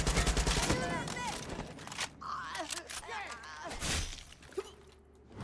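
Far Cry 6 gunfire: a rapid, loud volley of shots at the start, then scattered bangs under excited speech and game voices.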